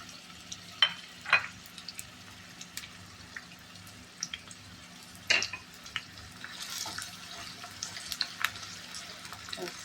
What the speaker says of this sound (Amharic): ዘይቴ ሲግልልኝ እንደዚህ ሽንኩርት ጨምራለሁ።